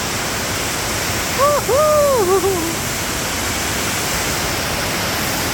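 Sangbay Falls waterfall in Pugo, La Union roars as a steady, dense wash of rushing water that fills the scene, with a brief voice-like call rising above it around the middle.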